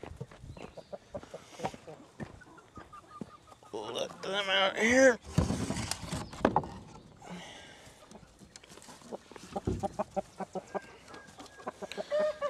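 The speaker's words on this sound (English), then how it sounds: "Here's the big chickens." A backyard flock of big chickens clucks and cackles after being let out, with loud squawks and fluttering midway and softer clucking throughout, under a woman's occasional speech.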